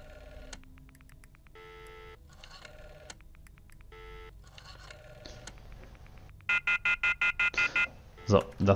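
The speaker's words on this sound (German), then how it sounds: "dann rufen wir noch mal an." In the Virtual Cabin of the Friday the 13th game, a phone number is punched in as a string of short, separated touch-tone beeps. Several loud, evenly paced ringing bursts follow, with faint background sound under the dialing.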